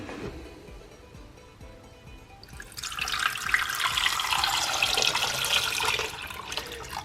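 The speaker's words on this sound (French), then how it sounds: "Je rajoute de l'eau." Tap water running into a pot of eggs, a steady splashing gush that starts after a few quiet seconds, fairly close and moderately loud, with no talk.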